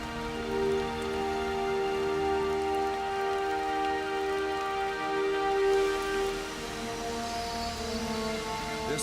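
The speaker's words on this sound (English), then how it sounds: "This nourishing rain quenches the desert's deepest thirst." Steady winter rain falls across the Death Valley desert, a soft continuous patter beneath a prominent sustained musical score that plays throughout.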